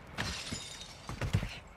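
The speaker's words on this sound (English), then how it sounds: "Oh, I hear another glass break." Glass shatters in a video game, a short cluster of bright breaking crashes with a couple of fainter follow-up impacts, heard alone with no voices.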